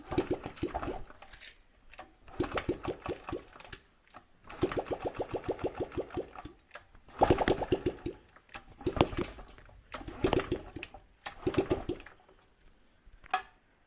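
A Honda CRF50 dirt bike is kick-started repeatedly, heard as several bursts of rapid mechanical chugging separated by pauses, each lasting a second or two, moderately close, with no engine catching to a steady idle.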